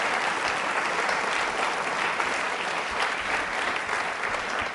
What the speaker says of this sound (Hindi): तालियां बजाइए इस संकल्प के लिए आप।